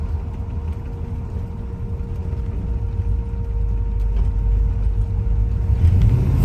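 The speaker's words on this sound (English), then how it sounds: "I'm not even sure if y'all can hear the exhaust note good." A 1966 Chevy Caprice rumbles along on the road, its low exhaust note droning steadily and swelling gradually louder as the car accelerates, heard from inside with no talking.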